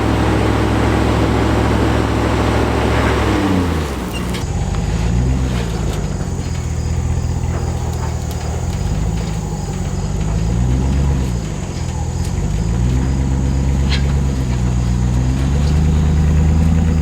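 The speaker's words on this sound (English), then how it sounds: "A little bit of an all-wheel drive burn out there." Land Rover LR4 doing an all-wheel-drive burnout while climbing a hill with winch assistance, a loud engine rising and falling through repeated revs, with a rough mechanical drone throughout.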